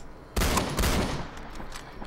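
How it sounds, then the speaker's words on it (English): A video game gun fires a loud burst of rapid shots, a sharp cluster of blasts followed by a second volley that rings out and decays, with no talking. "Jesus, that's a loud gun"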